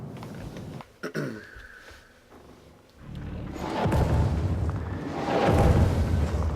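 Strafing-run explosions boom in a video game with illuminate enemies, one sharp blast followed by a pause, then a long rolling roar of heavy detonations that swells louder and sustains to the end.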